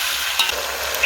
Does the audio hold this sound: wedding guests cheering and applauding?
no